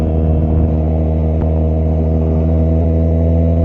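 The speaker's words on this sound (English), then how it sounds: "Nothing says look at me like having a really loud crotch rocket" A modded Kawasaki ZX4R motorcycle engine holds a loud, steady high-pitched rev, heard close and continuous, dominating the scene with no speech.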